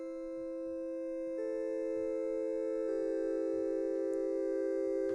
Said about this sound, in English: the melody is just the key ignition with a couple of effects on it.